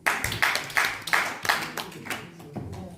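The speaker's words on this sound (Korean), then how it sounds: "그 아가씨를 위해서 박수 한번 보냅니다" A small lecture-hall audience claps briefly for a young Canadian opera prima donna, several quick bursts of hand claps tapering off over a few seconds.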